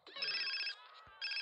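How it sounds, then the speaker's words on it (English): A phone rings in the video game GTA San Andreas, two bursts of an electronic trilling ringtone separated by a short gap, clear and fairly quiet, with no talk. "Phone ringing."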